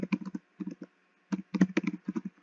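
Someone types a search term into a market research tool on a computer keyboard. The clicks are close and crisp, coming in quick clusters with brief gaps and no talking.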